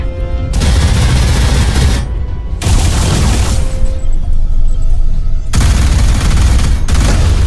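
Turrets fire in the Alien Rage video game, loud sustained bursts of rapid gunfire broken by short pauses, booming and close.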